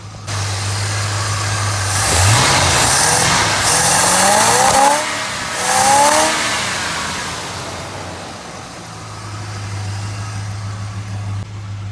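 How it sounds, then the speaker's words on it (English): An old truck engine with a faulty carburetor and timing revs up twice in rising surges, popping back as it settles, then falls to a steady, rough idle close by. "That popping back, man, still tells me there's something wrong somewhere in the ignition system."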